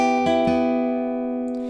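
Guitar riff, a few quick plucked notes across the 4th, 3rd and 2nd strings ringing together and decaying, close and clear.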